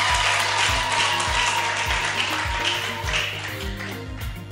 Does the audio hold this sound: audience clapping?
yes